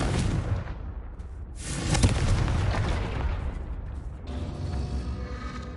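Confringo fire spell blasting in Hogwarts Legacy, loud rumbling explosion bursts with a second heavy blast midway and crackling debris after, no talk.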